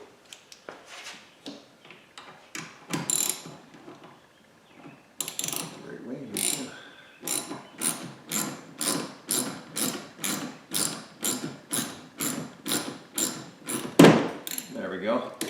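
A puller works a windshield wiper arm loose, giving a long series of sharp ratcheting clicks, sparse at first and then a regular, evenly spaced run, close by, ending in a louder knock.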